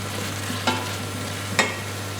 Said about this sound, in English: I'm just going to allow these to cook, keep moving them about the pan, and as they begin to cook, these apples will break down.